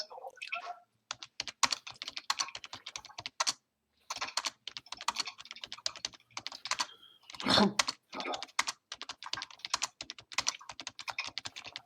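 Rapid bursts of typing on a computer keyboard, close and fairly loud, with short pauses between runs and one brief louder clatter partway through; no talking.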